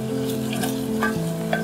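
Food frying in a pan being stirred while making miso soup: a soft steady sizzle with a few light scrapes and taps of a utensil, over a constant low hum.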